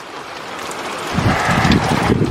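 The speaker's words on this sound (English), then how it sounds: "It's getting windy." Gusty wind during a summer thunderstorm with heavy downpour, a broad steady rush that swells louder and rougher partway through, buffeting the microphone with low rumbling gusts.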